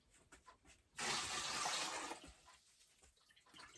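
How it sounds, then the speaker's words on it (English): Water is gently scooped out with a cup, a soft splash and pour lasting about a second, then quieter trickling and faint drips as it settles, heard close and alone. "So I'm just kind of gently scooping the water out, trying not to disturb all the debris that's settled to the bottom."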